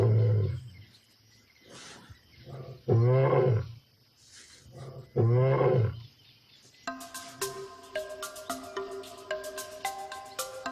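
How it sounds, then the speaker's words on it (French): Lion roaring to proclaim its territory, a series of loud, close, deep roars and grunts in steady rhythm that fade out, after which scattered bird calls continue in the background. "Le lion prend son mâle en patience en rugissant pour signaler qu'il est désormais le seul maître de ce territoire"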